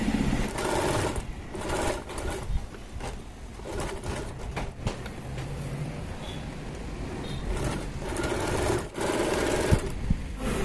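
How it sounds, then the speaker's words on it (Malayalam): A sewing machine stitches piping around a dress neckline in bursts of rapid, close mechanical whirring, starting and stopping several times with brief pauses between runs. "ഈ നെക്ക് മാത്രം നമ്മൾ കറക്റ്റായിട്ട് തയ്ച്ചെടുത്താൽ മതി."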